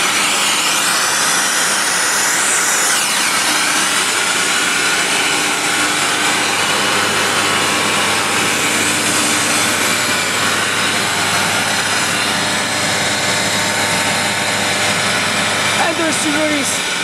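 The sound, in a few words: Atlas Copco air compressor running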